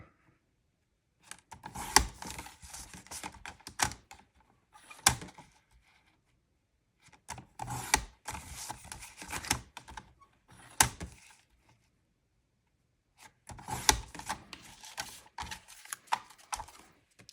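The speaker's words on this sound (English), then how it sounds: "we're going to cut these apart" Scissors cut apart paper journal pages in three separate runs of quick snipping and rustling, close and fairly quiet, with silent pauses between the runs.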